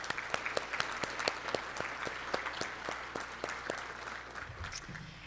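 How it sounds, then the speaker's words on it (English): Applause from guests and members at a Rotary club meeting, a modest crowd clapping steadily and fairly close for several seconds, with individual claps standing out against a low background hum. "If we could have a round of applause for all of you guests."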